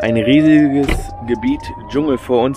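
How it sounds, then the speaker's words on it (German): A siren's steady, slowly rising wail sounds in the distance beneath someone speaking in German in a parking lot in Portugal, with brief pauses in his talk. "Ihr hört die Sirenen gerade im Hintergrund."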